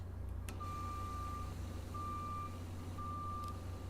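A bus in Bus Simulator 21 sounds a series of steady electronic kneeling warning beeps, evenly spaced, over a low engine hum.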